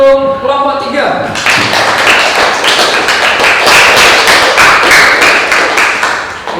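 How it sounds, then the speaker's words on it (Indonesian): Students in a classroom clap for a presenting group. A brief spoken phrase comes first, then a burst of dense, close, lively handclapping fills the rest. "kalau betul kita tepuk tangan untuk kelompok 3"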